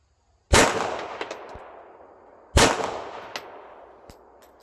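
A Laugo Arms Alien pistol fires two loud, close shots about two seconds apart, each with a sharp crack and a long ringing outdoor echo, followed by faint metallic clicks.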